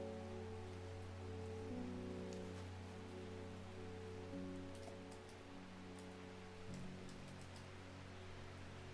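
Steady rain falls in Undermere, a rainy town in a video game, a soft continuous patter over a low droning hum, with faint scattered drips and no talking.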